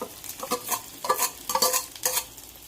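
Mashed dried fish being stirred into hot frying oil in a pan: rhythmic scraping strokes mixed with bursts of crackling sizzle, close and fairly loud with no talking.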